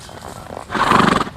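Buddy the horse lets out a loud, close whinny during horsemanship work from the saddle, following a softer stretch of hoof and tack sounds.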